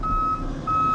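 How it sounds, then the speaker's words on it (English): Construction vehicle's reversing alarm sounding near a beach, two steady high-pitched beeps separated by a short gap over a low rumble of engine and background noise. "Sorry about the loud construction noise in the back."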